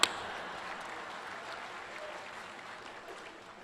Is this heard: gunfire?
no